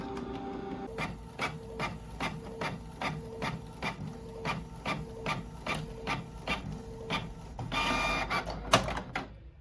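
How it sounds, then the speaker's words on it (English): A Cricut printer prints a business card mat with a regular, rhythmic mechanical chugging, each pass clicking evenly, ending in a louder whirring feed and a couple of sharp clacks. "I'm gonna put it back inside my printer, and then we're gonna go ahead and print the second mat"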